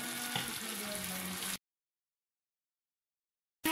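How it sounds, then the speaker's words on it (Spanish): Chicken sizzles in an open pan for a sugar-browned stew, a moderate steady frying hiss that cuts to sudden silence for about two seconds before resuming briefly. "lo que vamos a hacer es dejarlo abierto para que siga sofriendo"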